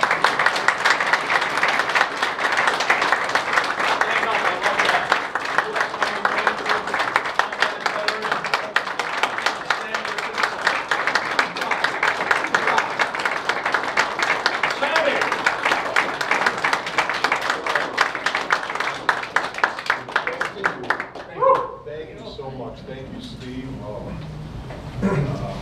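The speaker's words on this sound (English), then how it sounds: "Give him a round of applause." An audience applauds a speaker, an Airborne Ranger veteran, with a long, steady stretch of dense clapping that runs about twenty seconds before thinning into a few scattered claps and quiet room sound.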